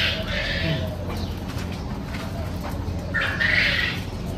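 A crested bird calls in a home garden, giving two separate bursts of calls, one at the start and one near the end, over a soft outdoor background.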